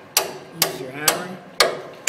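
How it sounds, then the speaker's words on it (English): Four sharp metallic hammer blows ring out on a cooling tower bearing during its removal, evenly spaced about half a second apart, each a close, loud clang with a brief ringing decay. "use your hammer."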